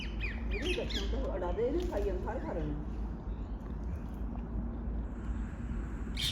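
A flock of parrots squawks and screeches in rapid, overlapping calls, loud at first then fading, over a constant low hum of background noise.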